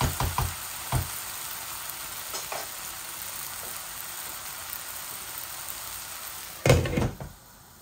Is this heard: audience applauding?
no